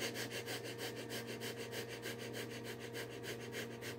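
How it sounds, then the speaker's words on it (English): Rapid, rhythmic breathing for a vocal exercise: quick in-and-out breaths repeat evenly about four times per second, close and steady, with no talking. "fast breathing."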